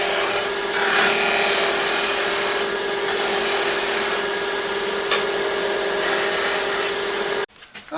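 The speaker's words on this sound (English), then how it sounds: "finish it a little bit with my finishing gouge" Finishing gouge taking light cuts on a wooden bottle stopper spinning on a lathe, a steady, loud broadband whir with a constant motor hum throughout, cutting off abruptly near the end.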